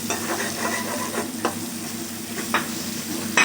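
Spices fry in a pan with a soft, steady sizzle, broken by occasional scraping stirs and louder crackles.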